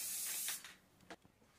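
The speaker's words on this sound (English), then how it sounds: "So just a light spray," A short hiss from a spray can of sealant on a mug, close and steady for about half a second, then a few brief softer spurts trailing off.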